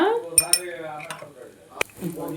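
A metal spoon clinks against a pan twice while garam masala goes into a Telugu-style prawn fry, with a few more light scrapes and taps of cookware following at close range.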